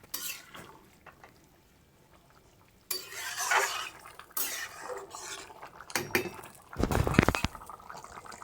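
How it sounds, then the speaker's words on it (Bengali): A spiced vegetable curry being stirred in a pan, intermittent scraping and clinking of a utensil against metal with wet squelching, quiet at first then louder bursts. "মা এবার ভালো করে নাড়িয়ে চাড়িয়ে নেবে তরকারিটাকে, যাতে তরকারিটাতে ভালো করে মশলাগুলো মিশে যায়।"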